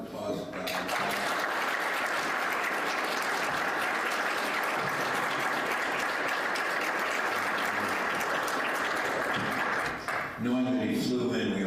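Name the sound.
audience applause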